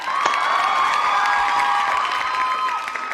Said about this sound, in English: How about a round of applause, everybody?